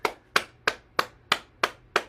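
Hands clapping during a morning bouncing exercise routine, seven sharp, evenly spaced claps in a steady rhythm, close and clear with no voices.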